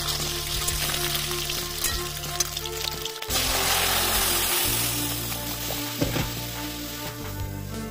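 Fish head frying in hot oil with cumin, bay leaf, dried chilli and ginger, a loud steady sizzle that rises sharply as the fish goes in, with occasional stirring clinks from the pan.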